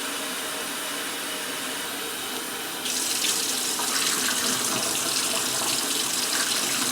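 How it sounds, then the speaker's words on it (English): Water runs steadily from a tap through a homemade shake-style filter as it is rinsed, a loud close rush that grows fuller and stronger partway through. "Just keep filling it and rinsing it over and over until it runs clear."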